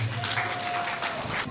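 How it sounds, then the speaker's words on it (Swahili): A seated audience at a parenting forum gives a short burst of applause to welcome a speaker, a dense wash of clapping that starts at once and carries under faint background noise. "apungie mkono wa kutazame na makofi kwake tafadhali"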